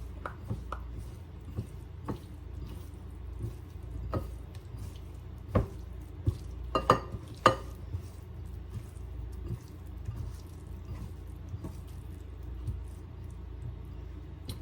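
Sundried tomato surf and turf pasta being stirred in a pan, with soft wet clicks and scrapes of a utensil scattered through a quiet kitchen, a few sharper taps standing out in the middle.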